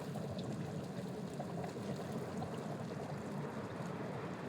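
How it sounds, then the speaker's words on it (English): Volcanic gas bubbling up through hot water on White Island, New Zealand, a faint, steady gurgling and trickling wash that continues without a break, with no voices. "you could hear the gas coming through the ground, but here, because there's water"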